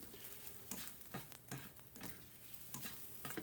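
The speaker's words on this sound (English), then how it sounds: "you can hear the sizzling" Eggs fry in a pan with a faint, steady sizzle broken by scattered crackles and pops, quiet and close, with no talking.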